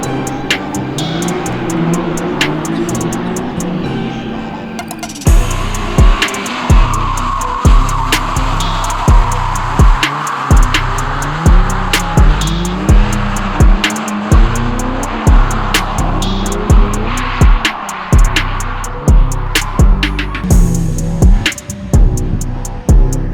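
Drift cars at a Shiftech Drift Series event roar past close by, engines bouncing off the rev limiter in rapid repeated bursts with squealing tires, loud and continuous over crowd ambience.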